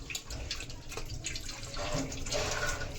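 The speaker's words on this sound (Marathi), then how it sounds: "तर चला आता हे लाल पाणी ना आपलं भाजीतले काढून घेऊ." Red cooking water is poured off boiled wild leafy vegetables, a close, continuous splashing and trickling stream of liquid lasting a few seconds.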